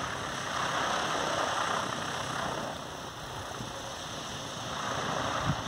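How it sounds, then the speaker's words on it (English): iSta Breeze i1500 small wind turbine flapping and rattling in moderate wind, a steady broadband whirring rush with slow swells, continuous and fairly close, no talk. "A lot of the noise we're hearing is coming from the i1500. It's flopping around a lot"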